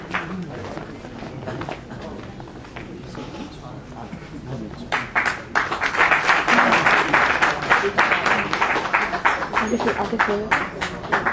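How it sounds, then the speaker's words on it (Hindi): An audience at a literary society's annual function applauds to welcome a poet; clapping starts sparse, swells into loud, sustained applause, with a voice speaking over the early part. "आप ही तालियों के द्वारा उनका स्वागत करें।"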